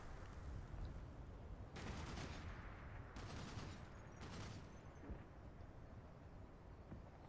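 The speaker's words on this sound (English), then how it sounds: "Oh, we're getting some shots out over there." Distant bursts of video game gunfire crackle over a steady rumbling background, coming in a few short volleys, fairly faint.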